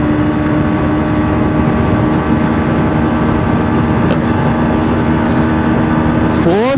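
A Pulsar NS 125 or TVS Raider 125 motorcycle engine holds a loud, steady whine as it accelerates in fourth gear, with a rising pitch sweep at the end; a voice talks over it.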